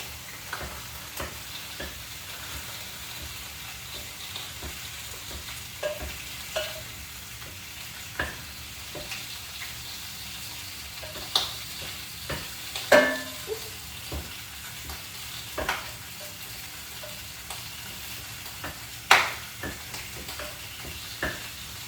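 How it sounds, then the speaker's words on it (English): Ground beef crumbled and frying in a pan, a continuous soft sizzle broken by occasional louder scrapes and taps of a utensil, fairly quiet and close. "Crumble up that ground beef a little"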